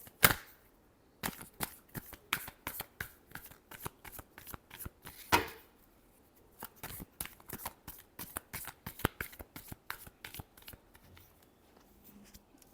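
Tarot cards being shuffled by hand in close, crisp bursts of riffling slaps, two long runs split by brief pauses, with no talking.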